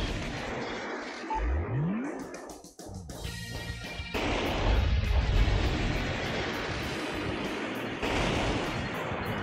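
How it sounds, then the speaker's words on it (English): An explosion in the video game Metal Wolf Chaos breaks through a barrier to an aircraft hangar, with a swooping rise, a sharp crash, then rumbling, crackling debris and noise that carries on to the end. "Why do they need to get through via explosion?"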